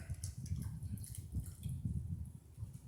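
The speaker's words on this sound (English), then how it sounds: "we are going to dip her down in the water" The roots of a houseplant, a Philodendron Golden Goddess or Rhaphidophora Tetrasperma, are dipped into water, making soft, close, low sloshing and gurgling splashes in a continuous irregular rhythm.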